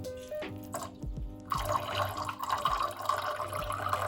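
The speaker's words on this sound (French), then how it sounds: "N'ouvrez pas trop fort le robinet également, sinon ça sera plus compliqué." Water from a gently opened tap begins flowing after a short quiet start, then runs as a steady close stream with faint splashing.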